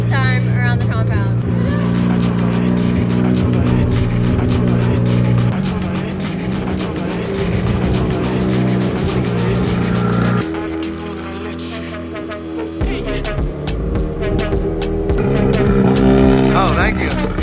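A rotary-engined Nissan S15 drift car with a DCT gearbox cruising at low speed, its loud buzzy engine droning close by with gear changes and shifts in pitch, and a voice talking over it.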